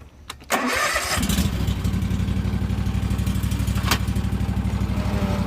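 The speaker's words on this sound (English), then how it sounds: "We got the drive motor working, the old belt." A Wright Stander mower's drive motor, fitted with its old belt, kicks in after a brief sputter and then runs loud and steady with a fast, even mechanical pulse.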